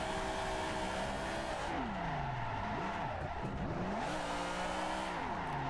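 In the racing game Assetto Corsa, a car drifts with a loud, close engine roar and tire squeal, revs swooping down and back up as the clutch is kicked mid-slide, continuous throughout.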